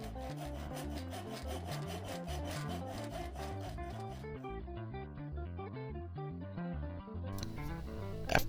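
Hand saw rasping steadily through wooden slot-and-tenon corners of a grappling dummy elbow joint, a fast regular back-and-forth stroke rhythm, close and loud throughout with a brief louder scrape at the end.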